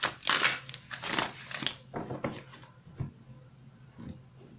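Tarot cards are shuffled up close in quick, papery bursts of riffling and slapping, loud at first and then softer and more scattered.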